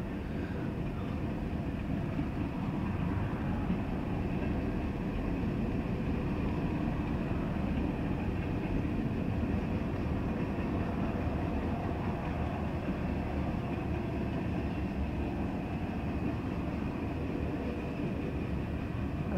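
A CSX manifest freight train rolls past with a steady, loud rumble and continuous clatter of wheels and cars, unbroken and without speech.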